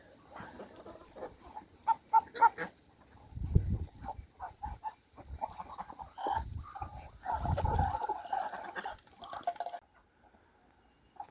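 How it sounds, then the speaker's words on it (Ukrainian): Farmyard fowl, geese, chickens and ducks roaming and feeding after rain on muddy ground, give intermittent clucks and honks in scattered bursts, close by, with occasional thuds and shuffling between calls. "поки тут гуси, кури, качки бігають, їдять."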